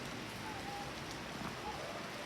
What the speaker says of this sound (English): Bro, why is it raining so hard?